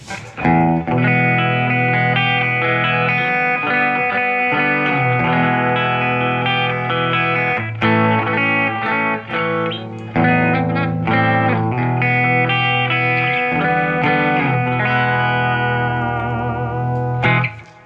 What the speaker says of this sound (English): Now I just want to put on a little bit of reverb